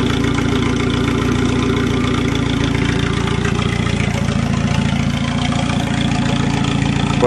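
A Volvo turbo engine with a chopped exhaust idles cold, a loud, constant low rumble with a rough, slightly uneven pulse running without a break.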